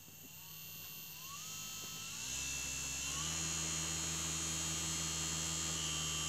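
Small DC motor spinning at minimum speed on a PWM speed controller, a faint steady electric hum and whine that climbs in pitch, then holds constant and continuous.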